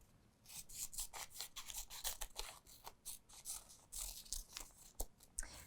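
Scissors roughly cut felt around a traced shape for a stuffed Christmas ornament, giving quiet, close, repeated snipping crunches in an irregular rhythm, alone with no talking.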